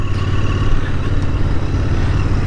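A Royal Enfield Interceptor motorcycle being ridden, its exhaust pipes giving a loud, steady, deep throbbing rumble heard close up with no break.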